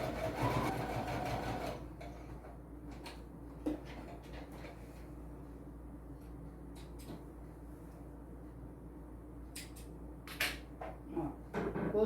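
Sewing machine running a short seam on a multipurpose travel wallet, a low steady hum with faint clicks after an initial louder burst, close and quiet.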